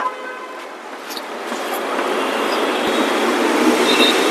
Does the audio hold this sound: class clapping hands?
no